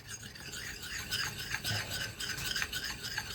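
A sharpening stone rubbing along an axe edge gives a quiet, continuous gritty rasp with uneven strokes, close up and alone.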